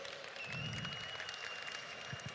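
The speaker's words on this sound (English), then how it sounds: "Let's give them, please, a big, big, big round of applause." Steady crowd applause at an esports grand final for the tournament winners, filling the hall evenly and continuously, with a faint electronic tone and a couple of low thumps near the end.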